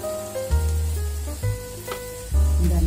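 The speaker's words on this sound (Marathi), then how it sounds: "आता आपण सर्व मसाले परतून घेऊया।" Loud, steady sizzle of spices frying in a hot pan for pointed gourd sabji, with a few stirring clatters and bursts of stronger hissing.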